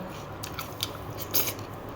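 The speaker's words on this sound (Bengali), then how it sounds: "মুচমুচে পাঁপড় ভাজা।" Crisp bites into hot, crunchy fried papad, a few sharp crackling crunches spaced across the moment, close and fairly quiet with no talking.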